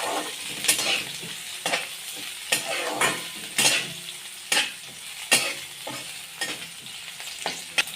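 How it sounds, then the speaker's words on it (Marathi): Green chillies frying with garlic in hot oil, a continuous sizzle broken by regular scraping stirs of a spatula in the pan, roughly one stroke per second, close and clear with no talking. "आता हिरवी मिरची चांगली तळून घ्यायची आहे."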